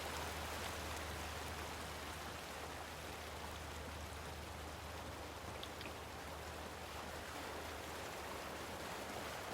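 Steady rushing of river water at the end of a river in the King's Quest video game, a continuous broadband wash with a low hum underneath, constant and fairly loud with no talk.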